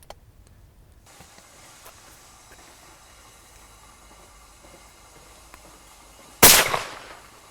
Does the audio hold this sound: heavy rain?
no